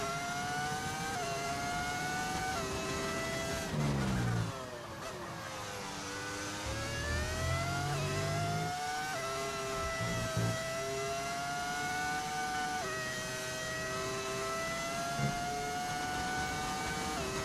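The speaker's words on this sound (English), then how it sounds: "Back when F1 cars used to sound good." Formula 1 race car engines roar in the F1 25 racing game, holding a loud, high-pitched whine that rises and falls with gear changes and revving, with a brief dip and a lower engine rumble partway through, continuous throughout.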